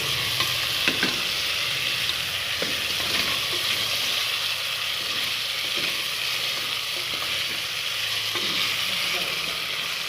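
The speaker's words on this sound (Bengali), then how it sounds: "তো জাস্ট এখন কষানো হচ্ছে" Chicken leg pieces sautéed kosha-style in a pan, giving a steady, loud, close sizzle of frying with scraping stir strokes throughout and no voices.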